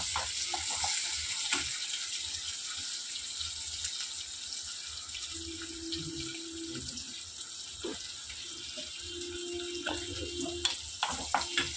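Onions fry in a pan with urad dal, chana dal and curry leaves, giving a soft, steady sizzle close by, broken by occasional clinks and scrapes of stirring.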